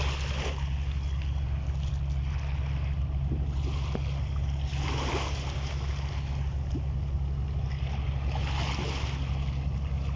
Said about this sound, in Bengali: কর্ণফুলী তেরা লঞ্চটা কিন্তু হচ্ছে মঙ্গলচিকদার থেকে ঈদের যাত্রী নিয়ে কিন্তু এই মুহূর্তে ঢাকার উদ্দেশ্যে চলে যাচ্ছে